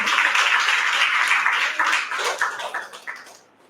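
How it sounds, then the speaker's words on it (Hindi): A church congregation claps together in sustained, dense applause during a Hindi-language worship service, loud and continuous before tapering off toward the end. "तालियां बजा के प्रभु का धन्यवाद करें।"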